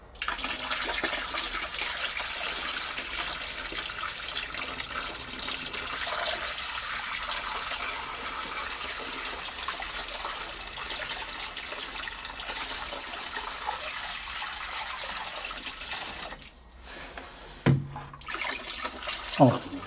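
Water pours into a bucket to lift a pump float, a long steady rushing flow heard close, ending with a few clunks and brief bursts near the end; faint talk at times.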